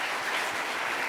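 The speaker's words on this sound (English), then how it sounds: "Big applause." Steady applause from a conference audience at the end of a keynote talk, a dense even wash of clapping that fills the hall without pause.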